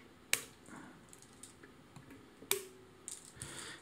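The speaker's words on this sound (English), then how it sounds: "I'm just going to trim the strings off with a pair of scissors like this" Scissors snip the excess strings on a ukulele during a string change, giving two sharp, close cuts about two seconds apart, with light handling clicks around them.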